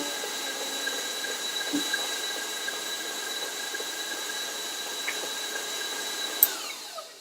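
An electric stand mixer beats shortening into frosting with a steady, faint, high whirring hum and a few light clicks near the end, with no voices.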